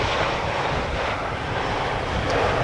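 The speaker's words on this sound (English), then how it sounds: "an Ember 190 returning from Italy from Genoa" An Embraer 190 airliner arriving from Genoa, Italy passes with a loud, broad engine roar, steady and close, blended with some wind rush for a few seconds.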